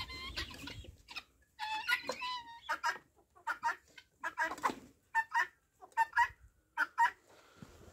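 Guinea fowl and roosters cluck and call in a farm flock. A run of short, sharp, repeated clucks comes at an irregular rhythm, moderately close and fairly quiet, with no talking.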